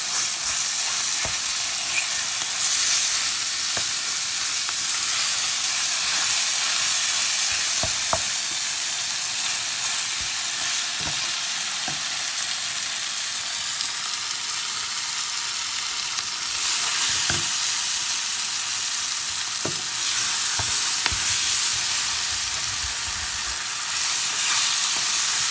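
Meat frying in a pan for pastel filling, a steady loud sizzle that runs throughout with occasional stirring clicks and scrapes and no voices.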